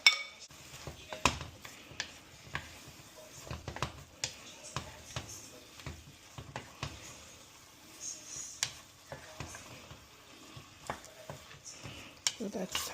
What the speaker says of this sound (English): And then I'm gonna put in the vegetables.